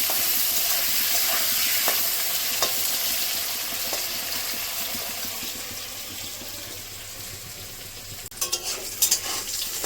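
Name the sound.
raw banana and potatoes frying in a pan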